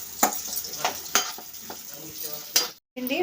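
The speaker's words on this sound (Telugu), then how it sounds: "ఆనియన్స్ పచ్చిమిర్చి వేసుకొని ఒకసారి అలా కలుపుకుందాం" Onions and green chillies being stirred in a frying pan, with a low sizzle under several sharp scraping clinks of a spoon against the pan at irregular intervals.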